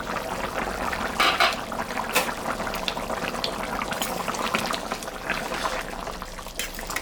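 Mutton curry boils in a covered pot, with constant close bubbling and hissing and a few sharp clatters rising briefly above the simmer.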